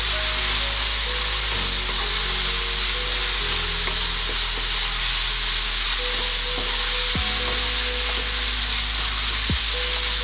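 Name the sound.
stirring stuffed milkfish filling frying in a pan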